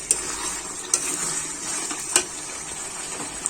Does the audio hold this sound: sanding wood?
no